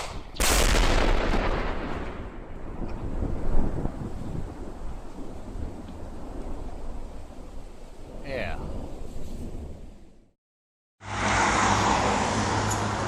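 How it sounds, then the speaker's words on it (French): A sharp, loud blast goes off near the start as workers explode a fallen tree off power lines in Norway, followed by a long rumbling, wind-buffeted roar and crackling debris, then a brief silence before steady noise resumes. "Pour dégager la ligne, les ouvriers ont décidé de faire exploser l'arbre."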